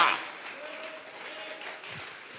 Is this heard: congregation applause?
yes